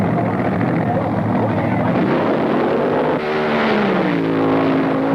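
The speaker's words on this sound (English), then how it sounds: "Ron Ellis and his 1923 Model T-body dragster faces George Montgomery's supercharged Mustang in the championship run." Ron Ellis's 1923 Model T-body dragster races George Montgomery's supercharged Mustang in a championship drag run, a loud sustained engine roar with pitch sweeping upward partway through, under a voice talking.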